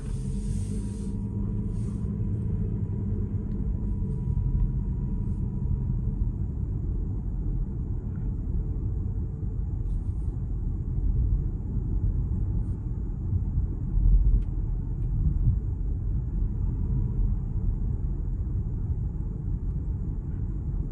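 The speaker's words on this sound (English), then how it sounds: "let's go ahead and just do a quick night drive" Steady low road rumble and engine drone from a 2025 Mazda CX-50 Hybrid driving at night, heard from inside the cabin as a continuous, even hum with no talking.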